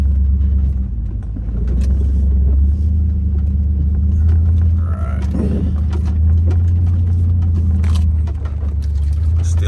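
An off-road vehicle in two-wheel drive crawls along a desert wash, its engine a steady, loud low rumble with faint rattles and clunks of the cabin and gear over the terrain, no talking.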